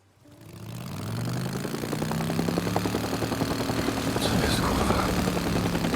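A helicopter's rotor thumps steadily alongside an engine drone, swelling in from quiet and holding loud throughout, in the video game Days Gone on PS4.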